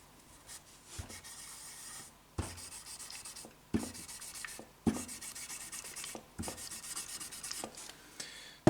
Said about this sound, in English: make sure that I rub it all into the fretboard and then continue